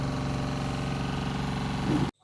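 A motorcycle engine idles and runs steadily close by as it arrives at a house, a continuous mid-pitched mechanical drone that cuts off abruptly at the end.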